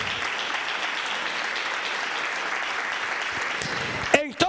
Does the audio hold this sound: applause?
yes